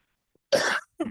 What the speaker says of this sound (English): sorry about the cough today